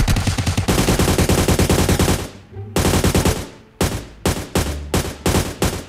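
Automatic gunfire in PUBG Mobile as a teammate shoots, loud sustained bursts of rapid rounds followed by a pause and then several shorter staccato bursts, close and dominant with no talking.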